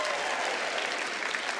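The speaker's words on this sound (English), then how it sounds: "Please clap your hands together." A comedy club audience claps steadily, a dense wash of applause that carries through the whole brief moment.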